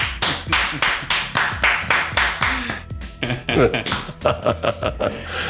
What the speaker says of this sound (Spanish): Un aplauso para mi compañero y por el podcast.